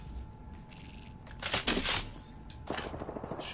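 Shotgun blasts in the video game Apex Legends: two or three loud, sharp broadband bursts, the second followed by a trailing rattle, over a low background hum.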